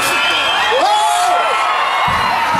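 Children in a crowd at an agricultural show cheering and shouting to win a thrown prize, a loud continuous din of raised voices with squealing whoops rising above it.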